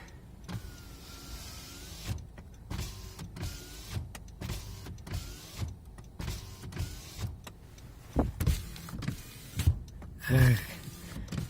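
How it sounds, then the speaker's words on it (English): A 2017 Honda Accord Sport sedan's power window hums as it closes, with a scraping, scratchy rub along the glass and a few clunks and thumps around it. "when you close the window, you see, you can hear that scratch"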